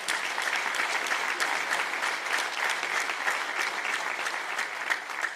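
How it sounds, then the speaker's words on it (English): An audience at a chamber of commerce congressional luncheon in Monroe, Louisiana gives a steady, sustained round of applause that fills the room evenly from start to finish. "So give yourselves a round of applause."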